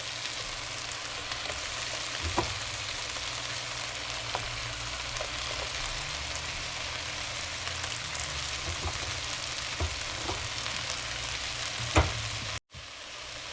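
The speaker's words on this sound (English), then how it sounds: "You just throw all of your onion in there and let it start cooking." Chopped onion frying in a pan for a chicken spaghetti stir fry, a constant close sizzle with occasional scrapes and taps of stirring, briefly cut off near the end.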